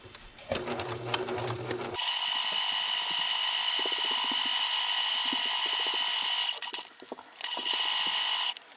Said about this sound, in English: So we're gonna sew up here, and then we're gonna cut across.